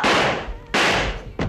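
Three sharp broadband bangs in an Italian crime drama, each a loud crack with a decaying tail, the first and second close together and the third shorter, with no voices.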